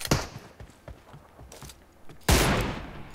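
Bursts of video game gunfire during an online shooter match: sharp repeated shots early on, then a loud sustained burst of rapid fire near the end, fairly close and dominant.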